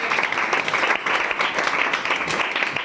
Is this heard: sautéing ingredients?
no